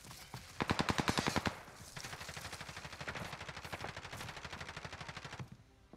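Rapid automatic gunfire in a first-person shooter game: a fast burst of evenly spaced shots, then a longer sustained rattling volley, loud and dominant with no talk over it.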